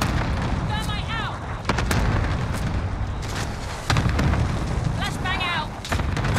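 Combat in Call of Duty with a thermite grenade and gunfire: loud, dense bursts of shots and booms run through the whole stretch, with sharp cracks throughout and a couple of brief whistling trills.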